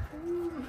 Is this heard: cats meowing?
no